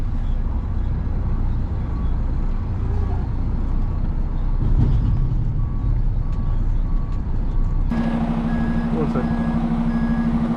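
A truck backing up sounds a steady, evenly spaced series of reversing beeps over a loud rumbling engine on a construction site with scaffolding, and a second higher beep pattern joins near the end.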